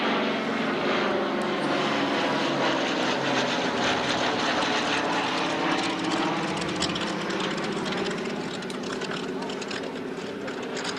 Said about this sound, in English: the C-47 is going to show us a gunship turn, simulate a gunship attack in Vietnam